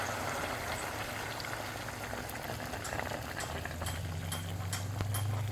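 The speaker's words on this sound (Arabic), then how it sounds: "هلا بضيف المي الغليانة عليهم" Boiling water is poured over pieces of chicken in a pot, a steady bubbling, splashing wash with sharp ticks and knocks, rising into a louder low gurgle near the end.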